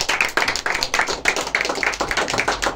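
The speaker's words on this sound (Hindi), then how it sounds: "तालियां आप सभी के लिए।" Audience clapping at a Hindi speaking event, a brisk, close, fairly loud run of claps in an uneven rhythm from a modest crowd, heard alone without talk.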